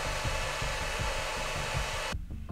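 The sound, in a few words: cooling fan of Ecoflow Delta Mini power station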